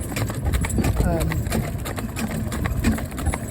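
A driving horse named Cloud clip-clops along a road, hooves beating in a steady rhythm close by, with engine-like rumble and talking over it.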